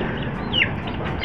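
Chickens in a coop make soft clucking, with one brief, sharp, higher call rising above a steady background murmur.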